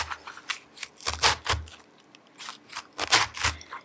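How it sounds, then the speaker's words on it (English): A knife chops through a chunk of cabbage head for coleslaw, giving a series of crisp, close crunching cuts in uneven bursts, with a brief pause in the middle before more chopping. "I do have my head of cabbage, and I'm just going to cut off a chunk and cut it up"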